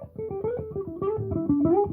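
A guitar plays a quick pentatonic phrase of evenly picked single notes, about a dozen in two seconds, with pitch slides between them into a new position, played alone and close.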